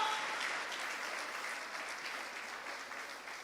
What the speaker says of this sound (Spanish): Alguien que aplauda el nombre del Señor.